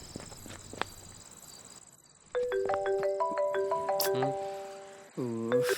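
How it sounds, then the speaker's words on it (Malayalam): A mobile phone ringtone plays a tonal electronic melody of stepped notes that enters partway through and repeats, loud and close, following a quieter stretch with footsteps and brief speech. "നീ ഫോൺ എടുത്തേ. അവൾ ഇങ്ങനെ വിളിച്ചോണ്ടിരിക്കും."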